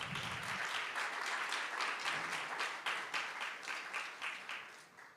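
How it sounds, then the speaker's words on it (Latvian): An audience at a panel discussion claps steadily for an arriving guest, a fairly distant wash of applause that thins into separate claps toward the end. "Aplausi."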